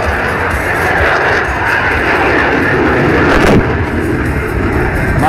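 A Eurofighter Typhoon jet roars loudly and steadily through a tight, minimum-radius turn at an air show in Piešťany, its engine noise a broad continuous rush that swells slightly midway, with no voices over it.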